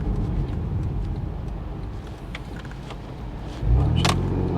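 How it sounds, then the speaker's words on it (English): Porsche 987 Boxster on the road, a steady engine and road drone swelling into a sharp engine blip near the end as it downshifts from third to second. "every time you change down more from second, third to second, you get, you know, a nice engine blip noise"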